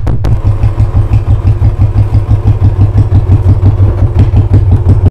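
Royal Enfield Bullet motorcycle fitted with an aftermarket silencer exhaust, idling up close with a loud, deep, steady thumping rhythm of evenly spaced pulses and no talk.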